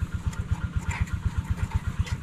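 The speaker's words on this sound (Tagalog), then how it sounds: "Mukhang maganda yung makina na eh" A Japanese-made power tiller engine runs at a steady idle, its low, even putt-putt firing pulses repeating rapidly and close by with no talk over it.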